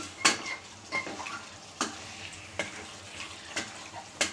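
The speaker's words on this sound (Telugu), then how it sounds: "ఇంకా ఆనియన్స్ వేసిన తర్వాత చికెన్ అన్నది ఇందులో వేసేసుకున్నాను. ఇంక ఇది కూడా వేసుకుని బాగా కలుపుకోవాలండి." Chicken and onions for a chicken curry frying in a pan, a steady sizzle broken by regular sharp strokes of the spoon stirring against the pan, close and fairly loud.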